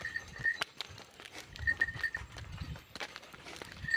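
Bullocks on a farm walk along, their hooves making irregular soft thuds and clops at moderate distance, mixed with faint rustling and a thin tonal background hum.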